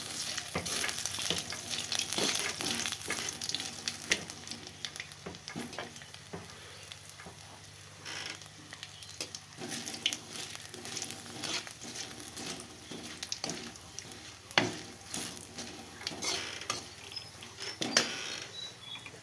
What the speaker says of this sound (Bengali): ফোড়ন বসিয়েছি।